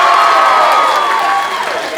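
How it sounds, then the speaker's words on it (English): A crowd at a school stepping-up ceremony bursts into loud, dense applause and cheering, a continuous wash of clapping with a shrill whistle cutting through near the start. "Give yourselves a round of applause."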